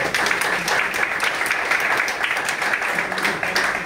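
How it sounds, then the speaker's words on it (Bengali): Steady, dense applause from an audience for bronze directors at a Vestige marketing plan meeting, a continuous wash of many hands clapping, loud and sustained throughout. "এনাদের জন্য জোরে হাত তালি।"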